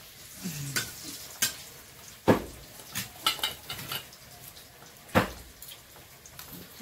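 Kalmi greens (water spinach) fried in a pan, with sharp scraping strokes of a utensil and clinks against the pan over a low background sizzle, spaced irregularly and close.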